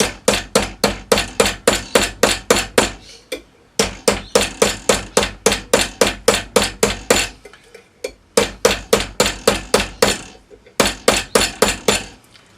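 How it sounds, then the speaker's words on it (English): Rapid, ringing hammer blows strike a metal cuff bracelet in bursts of steady rhythm, loud and close, with brief pauses between runs. "You may have to hammer it off to the side a bit."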